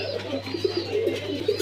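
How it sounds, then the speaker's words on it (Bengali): A pair of cappuccino pigeons at a pigeon farm coo softly in low, repeated bursts against a steady background hum, with no voices present. "এখানে দেখতে পাচ্ছেন একজোড়া ক্যাপাচিনো কবুতর।"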